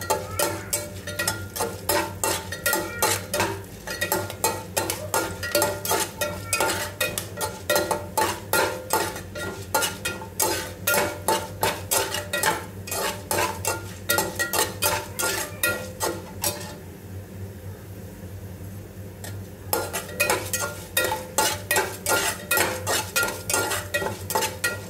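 Chana dal, urad dal and curry leaves fry in a pan for bendakaya fry while a spoon stirs steadily, metal clinking against the pan in quick repeated strokes over a constant soft sizzle, briefly pausing before resuming.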